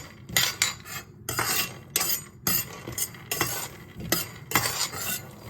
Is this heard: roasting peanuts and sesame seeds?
yes